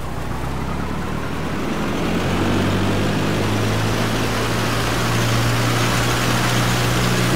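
The engine of an A2A Cessna 172 in a flight simulator runs steadily at about 1800 RPM, a constant low droning hum with a broad wash of noise, close and uninterrupted.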